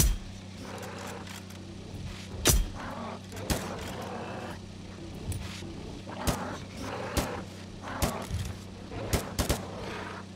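Gunshots ring out in the game Miscreated as sharp, loud single cracks and short bursts at irregular intervals over a low engine-like drone, with some faint talking in between.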